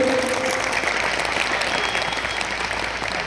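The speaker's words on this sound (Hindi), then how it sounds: "तालियों के शोर से आशीष दे देना।" A cold late-night Hindi poetry gathering, a kavi sammelan in Pushkar, where an audience claps in a dense, steady burst of applause that fills the space without a break and fades slightly toward the end.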